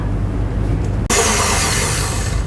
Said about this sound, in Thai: แล้วก็เปิดเครื่องเบาๆ ค่อยๆตีนะคะ เปิดเครื่องเบาๆ แล้วก็ค่อยๆเร่งเครื่องขึ้นตีให้เขาผสมเข้ากันค่ะ